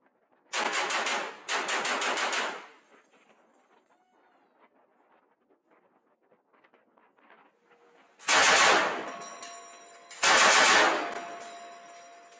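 M240B general purpose machine gun firing 7.62 caliber rounds, four loud, sharp bursts of rapid automatic fire in two pairs separated by a quiet stretch.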